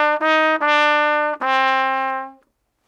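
Trumpet playing measure 11 of Ode to Joy, four clear sustained notes in a row, the last held longest before fading out, played alone.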